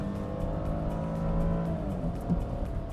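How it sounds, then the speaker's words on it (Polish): Jaguar X-Type accelerating hard from 60 to 90 km/h with its gearbox in sport mode, the engine's steady rising drone heard from inside the cabin, rather muffled and continuous. "Czas na test elastyczności 60-90, prędkość bazowa ustawiona. Jedziemy. Skrzynia w trybie sport."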